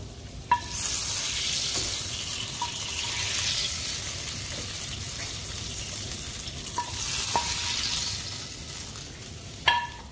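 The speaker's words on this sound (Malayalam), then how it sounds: "നമുക്കിനി ഇത് കറിയിലേക്ക് ചേർത്തിളക്കാം" Shallots and curry leaves being stirred into a beef bone curry in a pan make a steady, moderate sizzle, with swelling scrapes of a spoon and a few sharp metallic clinks against the vessel.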